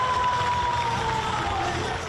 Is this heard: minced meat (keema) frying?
no